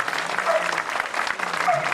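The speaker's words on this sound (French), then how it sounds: "Et on applaudit les mariés" Guests at an old-fashioned village wedding in Saint-Moreil, Creuse, applaud the newlyweds, a brief, steady burst of clapping from a small crowd close by.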